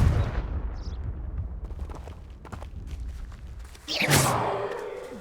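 The Confringo spell is cast in the video game Hogwarts Legacy, a burst of fiery blast noise near the end over a busy background of rumble and scattered game effects.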